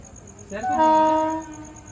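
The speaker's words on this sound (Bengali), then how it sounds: "আশা করি ট্রেন ঢুকবে" A train sounds one loud, fairly close horn blast of about a second as it pulls into Howrah station, with quiet rumble before and after.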